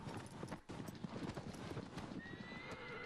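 A horse gallops in Shadow of the Colossus with rapid, close, rhythmic hoofbeats, and a whinny rises briefly near the end over the pounding stride.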